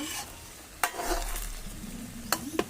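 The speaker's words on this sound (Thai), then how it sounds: "น้ำมันลงกระทะให้ร้อน แล้วนำไข่ ทุบเทกาลงไปเจียว ให้สุกเหลือง" Egg frying in hot oil in a pan for an omelette, a steady sizzle with a few sharp clinks of a utensil against the pan.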